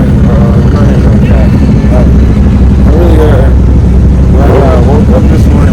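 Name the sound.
Ferrari sports car engine at a car meet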